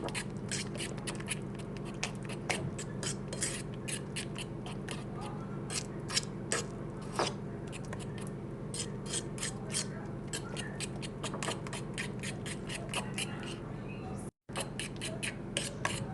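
Crepe batter of wheat germ and pumpkin whisked in a bowl, a steady run of quick, faint clicking and scraping strokes, close and alone throughout.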